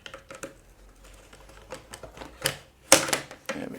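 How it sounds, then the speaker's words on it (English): Scissors snip through plastic packaging for bicycle mudguards up close, with small rustles and clicks followed by a sharp cutting snap and crinkling, no speech. "If I quickly snip this off."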